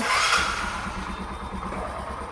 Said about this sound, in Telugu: వెహికల్ కూడా ఒకసారి స్టార్ట్ చేసి చూపిస్తాను చూడండి నాయిస్